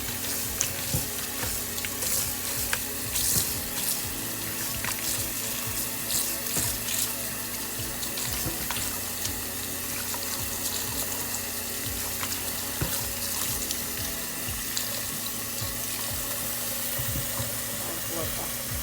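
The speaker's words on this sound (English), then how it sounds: "Add water to wash it." Water poured and splashing over dried oha leaves being washed for Nigerian Igbo oha soup, a long, steady running-water hiss with faint clinks and occasional quiet voices underneath.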